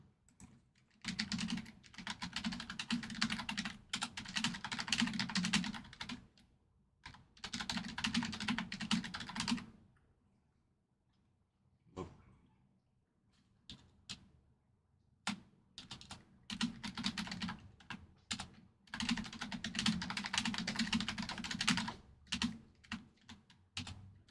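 Quick, continuous clatter of fingers typing on a computer keyboard, in close bursts with a few pauses and isolated key taps in between, no voices over it.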